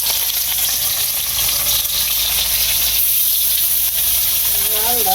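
A few fish frying in hot oil, a loud, dense sizzle filling the whole stretch, with faint background voices near the end.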